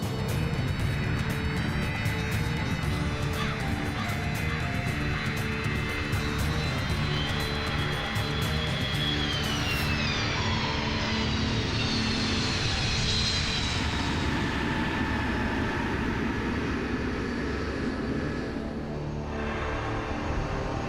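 A C-5 military transport aircraft approaching touchdown at Balad, its engines roaring loud and steady throughout, with a shifting high whine in the middle as it nears the runway.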